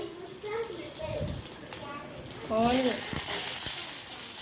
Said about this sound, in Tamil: பூண்டு இஞ்சி நல்லா ஃப்ரை ஆகட்டும்.